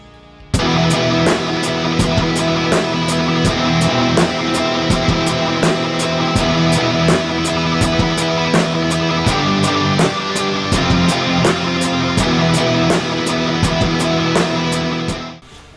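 Full band with guitar tracks deliberately dragging just behind the beat, steady loud groove with regular drum hits and sustained chords, no voices.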